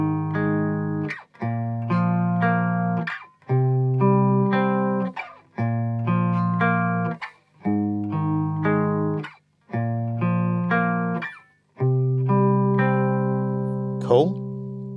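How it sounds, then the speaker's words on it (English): Electric guitar picking through the notes of a power chord, clean sustained notes plucked one after another in even phrases, close and alone without talk. "pick through the notes of the power chord"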